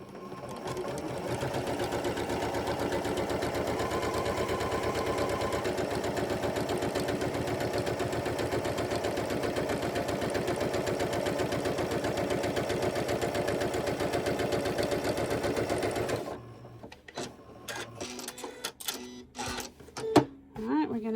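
Quilt block fabric being stitched on a sewing machine, a steady fast mechanical whir that runs loud and continuous for most of the clip, then stops and gives way to scattered handling clicks and knocks.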